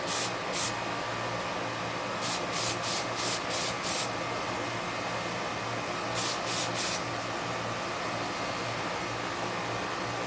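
Close spray painting of a very light dusting coat on a model, a steady hiss of aerosol with short repeated bursts of spray, no talking.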